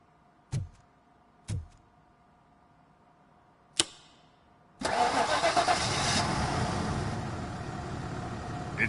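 A car engine starting in RoboCop: Rogue City: three sharp clicks spaced over a few seconds, then the engine catches with a loud roar and settles into a steady idle.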